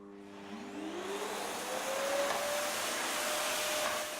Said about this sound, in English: She's going to press the start button and vacuum the floor.